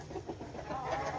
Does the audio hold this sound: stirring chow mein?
no